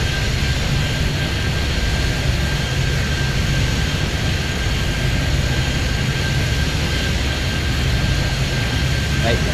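Airliners taking off in the Airport Madness video game, heard as a steady, loud jet engine roar that holds constant throughout without any clear rise or fall.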